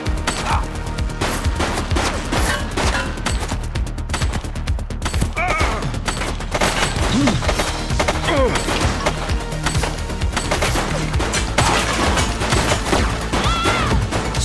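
Sustained gunfire in The Precinct, a police game, rattles on without pause for the whole stretch, with dense shots and impacts, loud and close throughout.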